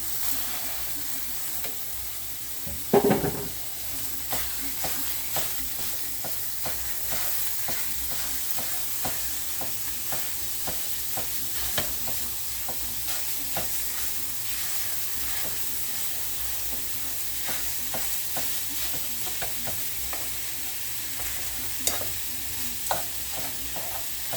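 Seasoned beef fries steadily in a pan, a continuous sizzle and hiss with frequent small crackles and an occasional louder clatter.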